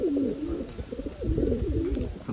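Khulna old-breed highflying pigeons cooing in soft, repeated rolling calls, close by, with a brief pause between bursts and no talking.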